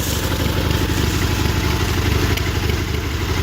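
A John Deere garden tractor engine idles after a cold start, and its carburetor may be faulty. It gives a steady, close, rumbling putter with a rapid low pulse and some clatter throughout.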